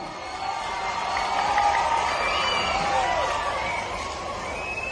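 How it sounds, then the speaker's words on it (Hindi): A large crowd at a political rally cheers and claps in a sustained roar that swells and holds, with whistles and shouts rising above the broad wash of noise. "450 रुपया, जोर से ताली बजाओ ना।"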